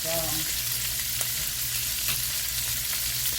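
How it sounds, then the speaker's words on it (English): Olive oil frying in a pan for a chicken, rice and cabbage stir-fry dinner, giving a steady broadband sizzle with a faint low hum and a few small crackles throughout. "I'm just putting a little bit more olive oil in there"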